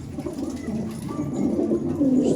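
Pigeons coo softly and continuously in a loft, their low rounded calls overlapping close by with no talking.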